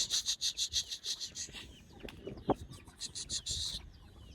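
Chickens cluck in quick repeated bursts while being put into a cage in a village during rain, close and fairly faint, with rustling and soft knocks between the calls.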